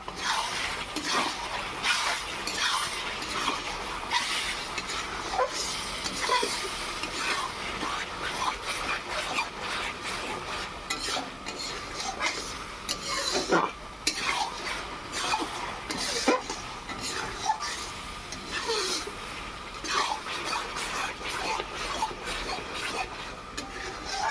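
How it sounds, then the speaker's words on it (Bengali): Onion and garlic with cumin powder are stirred in a pan while mutton is cooked at a family picnic, with continuous close scraping and clinking of a utensil against the pan over a faint sizzle and no talk. "এবার 2 থেকে 3 মিনিট নাড়াচাড়া করে নিয়েছি জিরে গুঁড়োটা দিয়ে।"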